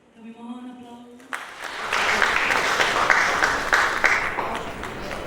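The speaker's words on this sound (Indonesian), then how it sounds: "Kami mohon aplaus." An award ceremony audience in Surabaya bursts into sustained applause, a dense crowd of clapping that lasts several seconds. Someone speaking into a microphone comes just before it.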